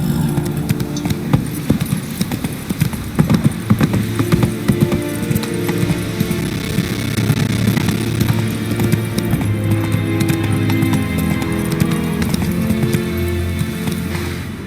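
Horse hooves gallop in a steady clip-clop rhythm in The Witcher 3, loud and close over a busy game soundscape of music and ambient effects.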